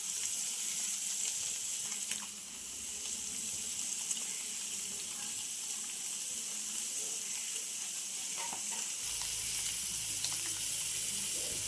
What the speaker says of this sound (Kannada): ಸೊ ನಂತರ ಪ್ಯಾನ್ ಬಿಸಿ ಆಗಿದ್ದೆ ಎಣ್ಣೆ ಹಾಕಿ ಮೀನನ್ನು ಬಿಡಬೇಕು.